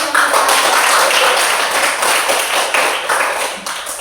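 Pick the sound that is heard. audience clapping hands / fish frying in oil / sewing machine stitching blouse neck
audience clapping hands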